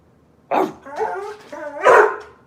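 A pit bull, Doberman and chocolate lab mix dog barks close by, a few loud, throaty woofs over about two seconds.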